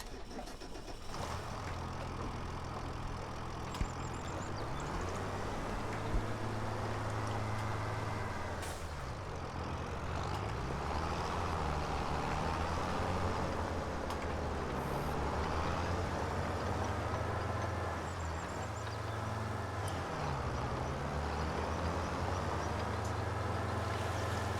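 A farm tractor's engine drones steadily while driving in the video game Farming Simulator 25. The engine pitch rises and falls as it works, and no one talks over it.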